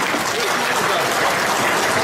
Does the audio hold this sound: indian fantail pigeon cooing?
no